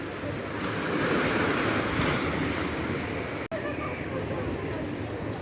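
Steady rush of Black Sea surf washing ashore at an Odesa beach with some wind noise, constant and fairly loud throughout, with a brief dropout partway through.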